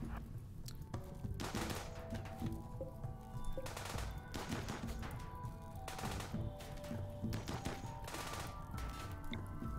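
Bursts of gunfire aimed at turrets in a video game about a mortar compound, arriving in several separate volleys over steady background game noise.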